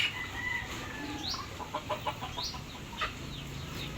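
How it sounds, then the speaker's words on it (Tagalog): Pet chickens clucking in a backyard coop: several short, bright clucks and calls come in uneven bursts over a low outdoor rumble, moderately close and with no talking. "Ito naman pong mga alagang manok po nila mama."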